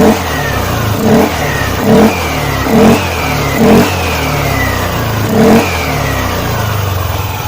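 A Yamaha Aerox scooter engine, just serviced for lost power and weak acceleration, runs alone and is revved repeatedly in about six evenly spaced throttle blips over a steady idle, loud and close.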